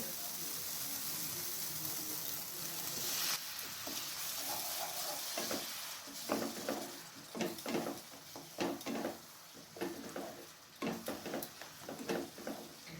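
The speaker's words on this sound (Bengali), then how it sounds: "মশলা যাতে তলায় পুড়ে না যায় এর জন্য এখানে সামান্য পরিমাণে জল দিয়ে দিচ্ছি।" Masala sizzling and frying in a pan for a kabuli chana curry after a little water is added, a steady hiss with irregular scraping stir strokes growing more frequent toward the end, close and fairly quiet.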